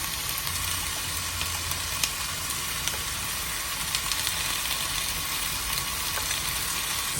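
Ginger garlic paste, curry leaves and green chilli sizzle in hot oil with shallots for a Kerala crab curry, giving a steady close frying hiss with small scattered pops, and no talking.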